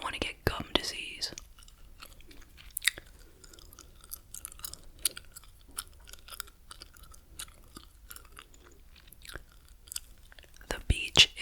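Gum chews wetly and close to the ear in soft, irregular smacks and clicks, with whispering running quietly over the chewing throughout.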